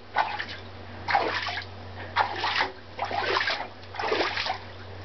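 A pet playing in water, bursts of splashing and sloshing arriving in four or five uneven clusters over a low steady hum, close and fairly loud.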